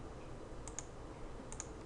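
Two quick pairs of sharp mouse clicks, close and crisp, while working in Revit software, against a quiet room hum with no talking.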